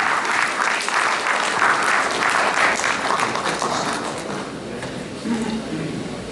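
Loud, sustained applause from a mushaira audience welcoming the poet Tariq Sabzwari, dense clapping throughout that eases slightly toward the end.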